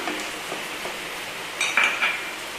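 Mushroom masala with kasuri methi stirred in a pan: a soft steady scrape of the spoon against metal, with a few brighter clinks near the end and no talking.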